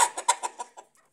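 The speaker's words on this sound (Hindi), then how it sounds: "अभी मैं दाना खिला रही हूँ मुर्गियों को" Hens cluck in a short run of about six quick, close calls that taper off as they are fed grain in the morning, with no voices.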